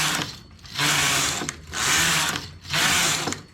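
A knitting machine making a child's jacket, its carriage swept back and forth in three long loud rasping passes, each separated by a short clack at the end of the row.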